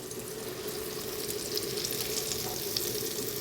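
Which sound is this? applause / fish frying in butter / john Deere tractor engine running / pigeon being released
fish frying in butter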